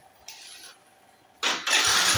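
Yamaha Soul GT 125 scooter with a weak oil pump being restarted: a brief starter whir, a pause, then the engine catches and settles into a steady, fairly close running note.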